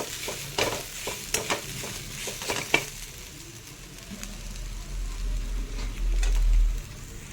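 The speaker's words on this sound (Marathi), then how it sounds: "सगळं एकत्र आता आपण भाजून घेऊयात. लालसर चांगलं होईपर्यंत भाजून घ्यायचं." Whole spices and poppy seeds dry roasting in a pan, stirred with a spatula: repeated scraping strokes and light crackle in the first half, then a steadier, louder low rustle near the end, with no talking.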